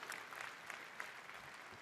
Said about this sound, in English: Big applause and thanks a lot to all of you